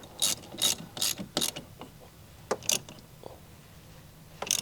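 Quick bursts of ratcheting clicks from a ratchet with a number 14 socket tightening a car battery terminal, several short runs close together, then a few sparse clicks and a final burst, with no talking.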